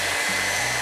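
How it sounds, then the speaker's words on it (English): A handheld hair dryer runs close by with a steady, loud whirring rush of air. It blows upward to hold a ping pong ball in its airstream, and no one talks over it. "I'm going to turn this hair dryer on"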